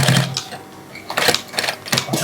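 Sewing machine stitching the upper of a mule shoe close to its taped edge, sounding as several short, fairly loud bursts of rapid mechanical whirring separated by brief pauses.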